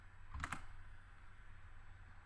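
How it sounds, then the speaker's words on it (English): Two quick, faint key clicks from a computer keyboard as Control and C are pressed, close by in an otherwise quiet room. "you're going to select Control on the bottom left of the keyboard and C"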